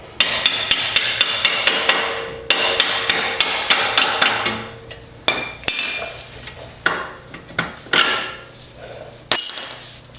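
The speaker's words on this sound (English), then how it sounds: "Or sometimes you just need to tap it out." A hammer taps an axle bolt into place during a car axle job. Rapid, regular metallic strikes ring out close by, then pause and resume as slower, scattered hits and clanks.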